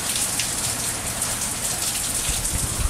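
Rain falls steadily onto an upblast exhaust stack head for a laser engraver, making an even, close hiss of drops and patter that continues without break, with no voices.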